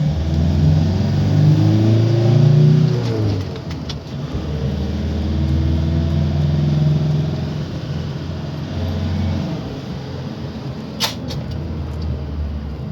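Toyota Hi-Ace van engine revving as the accelerator is pressed, with a reported loss of power under hard throttle: a loud, rising rev that drops back, then a steady engine hum with a brief knock near the end.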